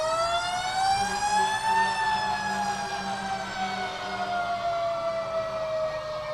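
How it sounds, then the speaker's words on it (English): A fire truck's spinning mechanical siren wails loudly at a Christmas street event, its pitch rising then slowly falling in a long sweep, with engine rumble underneath. "And as you see, they got the spinning siren too."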